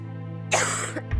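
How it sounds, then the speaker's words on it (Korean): A woman with a severe cough, worried it may be tuberculosis, gives one harsh, loud cough close by, followed by a short catch of breath, against a steady low hum. "인터뷰가 힘들 만큼 심한 기침을 하는"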